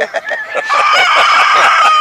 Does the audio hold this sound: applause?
no